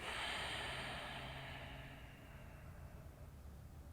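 Steady forceful breathing during a yoga session, close and airy, a long rushing breath that gradually fades out as a full exhale.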